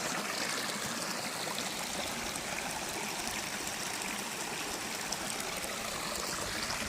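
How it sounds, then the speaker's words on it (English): A creek runs strongly after a snowy winter and rainy spring, its water rushing and trickling in a steady, dense wash of sound with no voices. "this year it's flowing really well"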